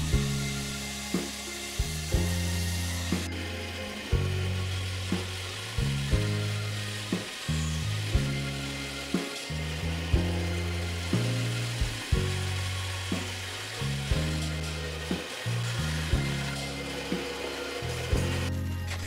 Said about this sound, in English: And cutting them on the bandsaw.